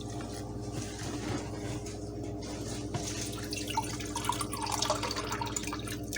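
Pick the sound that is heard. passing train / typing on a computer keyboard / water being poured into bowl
water being poured into bowl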